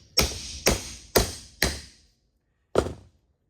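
Five sharp metallic taps driving a universal joint bearing out of the tailshaft of a 1972 Land Rover Series IIa, four evenly spaced strikes, a pause, then one final tap, close and clear with no talk.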